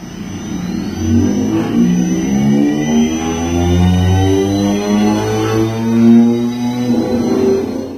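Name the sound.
electric go-kart motor running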